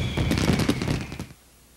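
Fireworks bursting at a Walt Disney World theme park, a quick run of sharp crackling pops and bangs that stops abruptly.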